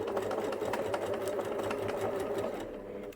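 A sewing machine makes the final stitches of a fabric seam on a bunny toy, a close, steady motor whir with fast rhythmic needle clatter that eases off at the end.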